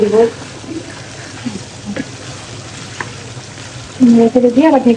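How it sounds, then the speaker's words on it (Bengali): Chicken korma sizzles and fries in a pan as it is stirred, a loud, close crackle with spoon scraping. A person speaks briefly near the end. "অনেক ভালো করে কষাইতে হবে"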